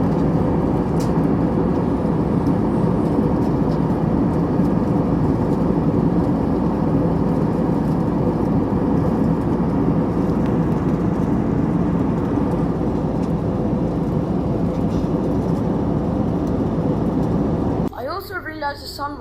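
Inside a British Airways airplane cabin at cruising altitude, a loud, steady low engine and air roar fills the space without letup, then briefly shifts near the end.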